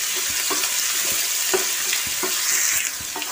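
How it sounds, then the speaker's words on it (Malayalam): Crushed garlic and shallots fry in hot coconut oil with curry leaves, a loud continuous sizzle with periodic scraping stir strokes of a spoon in the pan, no voices. "അതിലേക്ക് നമുക്ക് വെളുത്തുള്ളിയും ചുവന്നുള്ളിയും ചതച്ച് വെച്ചിട്ട് ഇട്ട് കൊടുക്കാം."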